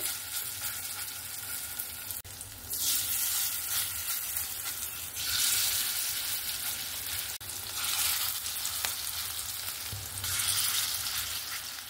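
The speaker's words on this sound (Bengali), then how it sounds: "বাদ বাকিগুলো আমি ভেজে নেব সেম পদ্ধতিতে" Malabar spinach leaf fritters sizzle and crackle steadily in hot oil, with a constant bubbling hiss that swells at times, no talking.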